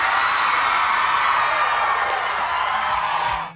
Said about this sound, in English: we'll just let the studio audience do the screaming for us